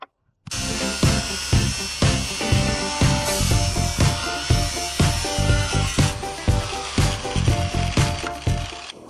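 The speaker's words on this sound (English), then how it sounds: "And we can cut off the 2 pipes, which comes out of the tank." Old water heater tank pipes being cut with a power tool, a loud, close, rhythmic mechanical rattle of repeated metallic strokes that runs steadily throughout, with no voices.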